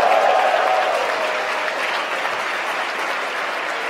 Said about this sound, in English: You can hear the applause from Mission Control.